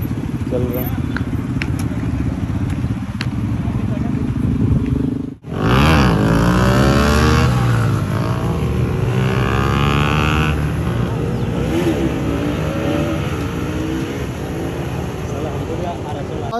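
Dozens of motorcycles roar past on a road on a Sunday ride from Ranchi toward Tilaiya Dam, loud overlapping engine drones that swell and fade as bikes pass close by, with a person speaking over the traffic noise.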